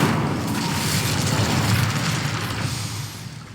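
An Incendio fire spell from the video game Hogwarts Legacy erupts as a loud, dense whooshing roar of flame that sustains for a few seconds and gradually fades.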